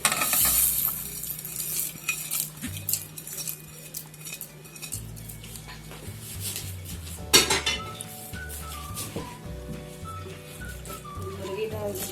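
Chicken is stirred into a pot of yakhni broth, with scraping and clinking of a spoon against metal, soft sizzling and a few sharp knocks over several seconds.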